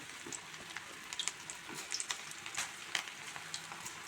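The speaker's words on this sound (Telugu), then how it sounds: "ఆయిల్ వేడైంది మనం దీంట్లో తోటకూర పకోడీలు వేసుకుందాం అండి" Amaranth leaf and onion pakoda batter frying in hot oil, a steady soft crackle with scattered brighter pops throughout, no voices.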